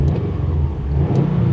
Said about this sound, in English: let's give this engine a quick rev.